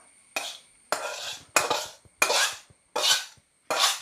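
Spoon scraping and stirring fish curry in a metal cooking pot, six separate rasping strokes in an uneven rhythm, close and clear with short silences between them, no voices.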